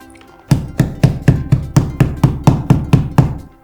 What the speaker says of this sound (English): I will use the hammer.